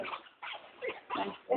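Newborn Chihuahua toy puppy whimpering while being rubbed, four or five short thin cries and yips close by, quiet and uneven.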